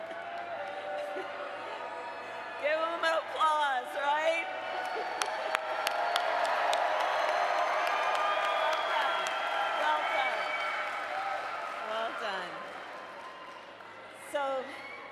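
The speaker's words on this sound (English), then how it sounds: "Give them an applause, right?" A large crowd at a rally in Las Vegas applauds and cheers, swelling to a loud sustained roar with whoops, while a voice talks over the start and end.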